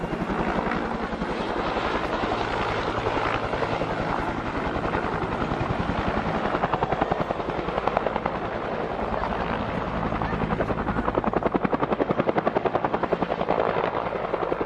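Helicopter coming in to land, a loud continuous rotor thump with rapid chopping pulses and broad whooshing roar throughout, close and steady without a break.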